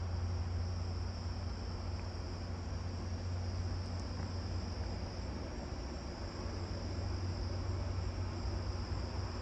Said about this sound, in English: you can already hear how many more southern ground, I mean not southeastern field crickets there are